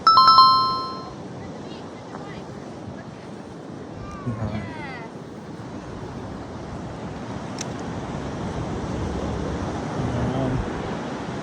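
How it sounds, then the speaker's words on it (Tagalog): Strong ocean surf at a beach in Las Palmas roars as a steady, broad wash throughout, with a cat meowing briefly at the start and faint voices in the background. "Malakas kasi ang alon dito."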